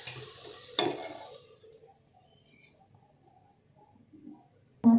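Chana dal being stirred in a metal cooking pot, opening with loud scraping and clanks, then fading into a quiet gap with faint taps before a sudden loud clatter at the end.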